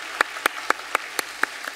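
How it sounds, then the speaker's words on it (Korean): A church congregation claps for the choir during a Sunday worship service, with seven sharp, evenly spaced claps sounding in a room. "우리 찬양대를 위해서 격려의 박수 한번 하겠습니다."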